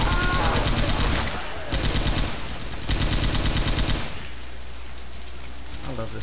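An M60 machine gun fires long, dense automatic bursts in the video game Hard Rain, loud and close, separated by short pauses, over constant rain noise that continues alone at the end.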